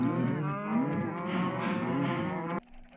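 Cows mooing on a cow farm in a video game, a series of long, low, tonal moos that overlap for nearly three seconds before stopping abruptly, leaving faint background sound.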